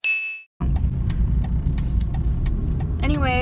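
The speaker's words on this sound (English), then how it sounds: "My car is breaking down." A car idles with a low, rough rumble after a short ding at the start, and a few faint clicks and knocks come through as it struggles and begins breaking down.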